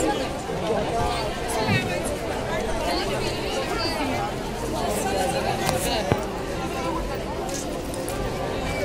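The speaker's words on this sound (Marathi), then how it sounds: "तर बघू शकता तुम्ही खूप म्हणजे खूपच गर्दी आहे आज" Dense crowd chatter at Kapaleshwar temple in Panchavati, Nashik, on Mahashivratri: many overlapping voices, steady and close, with occasional clinks and a sharp knock near the end.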